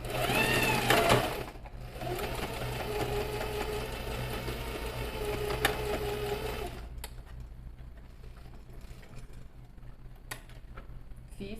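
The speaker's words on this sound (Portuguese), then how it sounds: "Simplesmente faço a minha costura nessa marcação." A sewing machine runs a steady, continuous stitch along a marked line on fabric for a bag, starting loud and close, then quieting to a softer mechanical whir with light ticks.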